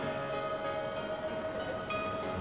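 A train in Japan rumbles steadily throughout, with a sustained tonal hum and rail noise at moderate level and no voices.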